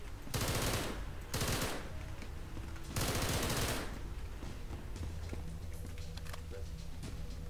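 Video game gunfire from SCP nine tailed fox comes in bursts of rapid automatic shots separated by short pauses, loud and close, with quieter game background sounds between.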